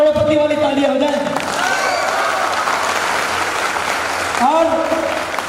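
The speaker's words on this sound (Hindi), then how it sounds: "तो डियर फ्रेंड एक बार करोड़पति वाली तालियां हो जाए" Audience clapping at a motivational training session for a company group, a burst of applause mixed with crowd noise and voices, while a speaker's voice is heard at the start and end.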